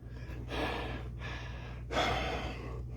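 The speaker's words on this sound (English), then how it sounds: "His breathing seems to be getting labored again" A cat breathing with effort, close and fairly quiet: three long, heavy, rasping breaths over a steady low hum, with no talk.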